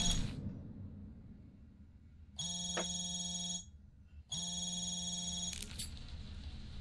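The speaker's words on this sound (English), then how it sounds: "Phone call." A telephone rings twice in a quiet Hitman: Absolution game scene, two bright electronic ring bursts about two seconds apart, with a brief click before them and a clatter at the end.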